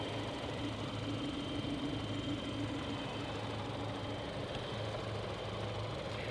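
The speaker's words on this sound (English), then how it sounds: "nice and smooth little running engine" A 2017 Ford Fusion SE's 1.5-liter EcoBoost turbocharged four-cylinder idles steadily in the engine bay, a low, even hum with a faint whirr, close by and continuous without talk.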